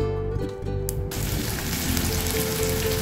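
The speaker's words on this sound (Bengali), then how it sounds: "পেঁয়াজটা এবার কিছুক্ষণ ভাজবো, যতক্ষণ না এটা ট্রান্সপারেন্ট হয়ে যাচ্ছে।" Two medium onions sizzle steadily in a pan while cooking for khichdi, a dense, continuous frying hiss heard close up with no voices.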